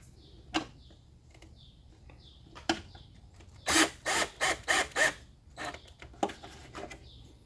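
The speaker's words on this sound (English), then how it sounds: "So I'm just going to put those screws in now." A driver spins screws into a plastic tail light housing, with scattered soft clicks, then a run of four or five short whirring bursts and a few more near the end, close by and without talk.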